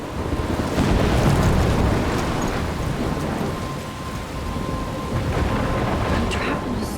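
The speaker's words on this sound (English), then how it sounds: "I'm trapped in a storm?" A loud, steady thunderstorm in the video game Life is Strange: heavy rain and gusting wind roar continuously, with low thunder rumbling underneath throughout.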